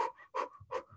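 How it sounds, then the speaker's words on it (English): Quick, forceful fire-breathing exercise, rapid breaths in and out through the nose in a steady panting rhythm, three sharp breath cycles in close succession with no talking. "So like quick breaths in and out, something called fire breathing is good."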